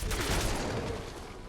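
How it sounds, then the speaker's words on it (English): A violent explosion kill in the video game Fallout 4, fired from a Militia Carbine, comes through as a dense, sustained burst of rapid gunfire and blast noise that stays loud throughout and eases slightly toward the end, with no voices. "that was a bloody mess explosion kill that just happened"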